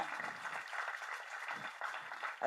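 Audience applause at the audio and trailer launch of the Tamil film Aandavan; faint, distant clapping that rises and dips in uneven bursts across the moment.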